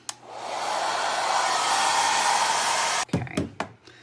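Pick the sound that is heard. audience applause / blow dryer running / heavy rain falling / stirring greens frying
blow dryer running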